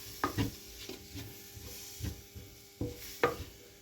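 Tomato being stirred into hot oil in a pan for Kerala-style chicken curry, with several soft scraping strokes of a spoon over a low sizzle, close and fairly quiet.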